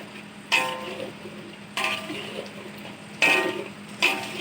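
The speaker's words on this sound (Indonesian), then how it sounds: "Nitik-nitik dia, meletup-letup nih dekat kuali." Spice paste for Penang laksa sizzles and pops in a hot wok, with a steady frying hiss broken by four sharp, loud bursts of crackle, close and without talk.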